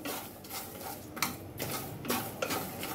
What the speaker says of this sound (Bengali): নুনটা গরম হয়ে গেছে তো রসুনগুলোকে দিয়ে দিই, দিয়ে ভালো করে এর সাথে একটুখানি ফ্রাই করে নিই